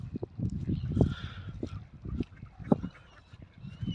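Several seagulls at Gunners Park give harsh, repeated calls close by, overlapping in quick, irregular bursts over a low outdoor rumble.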